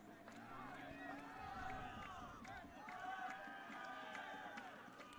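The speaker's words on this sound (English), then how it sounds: "Little student section cheer over here to the dot back right." A small student section cheers at a boys high school soccer match between Northrop and Bishop Dwenger, heard as a distant crowd swell under steady commentary.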